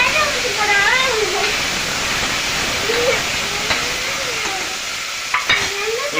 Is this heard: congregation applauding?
no